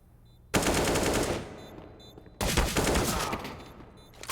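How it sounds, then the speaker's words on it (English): Two long bursts of automatic AK rifle fire in Counter-Strike on the map Mirage, each a rapid rattling volley lasting over a second, loud and close, separated by a short quiet gap with faint game ambience. "Oh, that's an AK."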